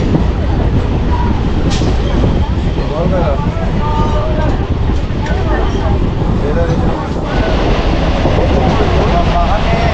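A passenger train rolls along the Plassey to Cossimbazar line with a loud, continuous rumble and clatter heard from inside the carriage, and faint voices mixed into the steady din.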